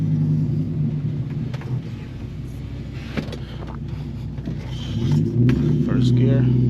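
A 2006 Dodge Ram SRT10 pickup with a Viper engine pulls away from a stop, its deep engine rumble steady and close, then swelling as the revs climb toward the end.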